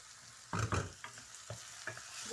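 Onions with whole cumin and garlic frying in a pan, a soft sizzle under a few clattering stirs and scrapes spaced through the short stretch, quiet and close with no voices.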